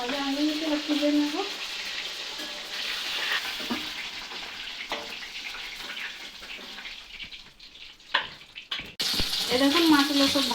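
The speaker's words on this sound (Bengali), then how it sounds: "দেখুন মাছগুলো সব ভাজি নিয়েছি উল্টে পাল্টে।" Pieces of fish fry in hot oil in a Bengali-style potato-and-fish curry preparation, a steady close sizzle and crackle running throughout, with brief voice-like tonal sounds near the start and end.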